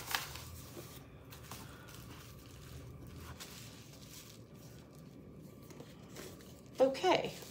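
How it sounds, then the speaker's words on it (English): A plastic package bag is torn open, a sharp crinkly rip near the end after a long stretch of low rustling and handling. "Try to get this bag open."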